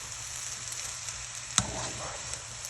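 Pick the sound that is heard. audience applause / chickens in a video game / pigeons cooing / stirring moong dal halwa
stirring moong dal halwa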